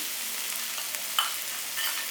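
Onions browning in a wok, a soft even hiss of oil with a faint clink or two from stirring, no voices.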